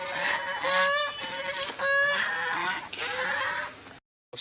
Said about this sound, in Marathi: सोडल्या कोंबड्या आता इथं.